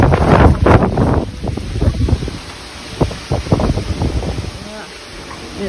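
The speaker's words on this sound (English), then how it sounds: "And it's very windy besides rainy." Gusty wind buffets the microphone in bursts, with a constant wash of rain-like hiss underneath, on a wet, windy stretch of the Camino de Santiago near Villafranca del Bierzo. Some low, muffled voices come and go.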